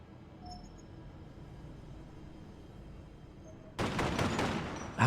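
Turret gunfire in Space Hulk Tactics, fighting as the Blood Angels, erupts as a sudden loud burst of rapid shots near the end, after several seconds of low, quiet background hum.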